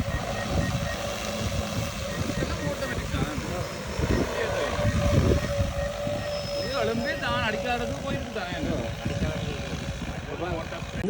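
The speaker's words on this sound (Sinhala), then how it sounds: "Aircraft preparing to take off." A DJI Agras T25 agricultural spraying drone lifts off over a paddy field with a loud, steady rotor whine and buzz that builds and holds while people talk nearby.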